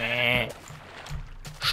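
A sheep in the Minecraft video game bleats once in a drawn-out wavering cry, followed by a few short thumps of the animal being hit.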